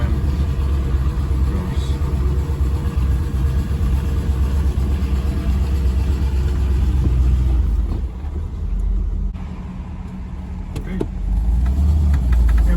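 A Chevy V8 swapped into a Range Rover, with its final exhaust setup, pulls uphill in first gear with a deep, steady rumble that dips briefly before swelling again, close and loud throughout.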